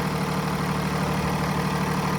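A 2017 Freightliner M2 box truck's 8.9 liter inline-six Cummins engine idles steadily with a constant low rumble and vibration, close by and unbroken.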